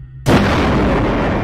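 A generator room explodes in a glitched video game attraction: a sudden loud, deep blast after a brief quiet start, followed by a sustained rumbling roar that fills the rest of the moment.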